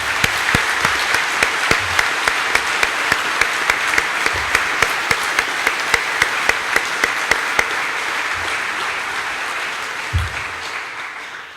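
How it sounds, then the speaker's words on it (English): An audience at a firefighter recruit class graduation claps for the instructors, a loud sustained round of applause with some sharp individual claps that fades slightly toward the end. "So would you join me in a round of applause and appreciation for all of our instructors."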